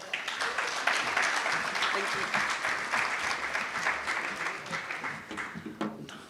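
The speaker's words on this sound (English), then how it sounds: "Round of applause once again, ladies and gentlemen" A crowd applauds at the live draw for the Bayhill Premier Cup football tournament, a steady wash of clapping that holds evenly and thins slightly toward the end, with no talk over it.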